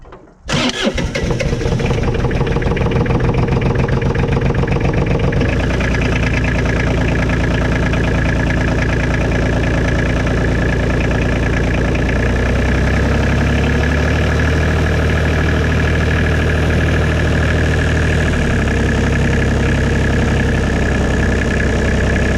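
A Bobcat 325 engine, just after an injection pump repair, cranks for a moment and catches. It then settles into a loud, steady, close running idle with no talk.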